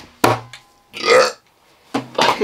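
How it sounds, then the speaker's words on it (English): Three short, loud belches close to the microphone, separated by brief pauses. "You just burp."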